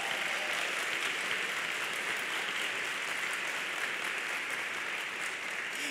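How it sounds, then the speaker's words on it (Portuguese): Church congregation applauding during a sermon, a dense, steady wash of many hands clapping that holds at an even level for the whole stretch, with no talk over it. "você está aplaudindo"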